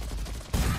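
Gunfire from the shooter game Gunfire Reborn rattles in a dense burst, a loud, rapid run of shots that thickens sharply partway through.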